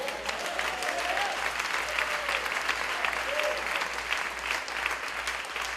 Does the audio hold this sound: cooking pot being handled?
no